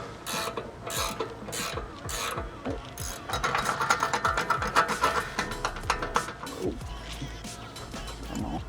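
A hand-cranked press tool removes the rear knuckle monoball bushing on an Infiniti G35, giving rapid repeated ratcheting clicks and metallic creaks that grow denser midway, then slow to a few scattered turns.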